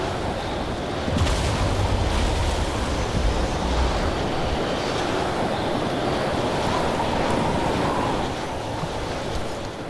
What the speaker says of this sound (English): Looks like we have strong winds today.